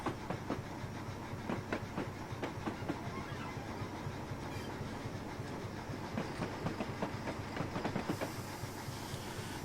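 A train rolls over a double slip in a train simulator game, with steady rumbling and hiss under a rhythmic clatter of wheels over the rail joints, continuous and fairly loud throughout.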